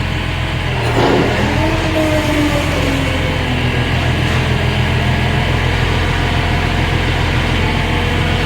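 A bus engine idles with a steady low rumble, constant and close, with a brief mechanical whine near the start.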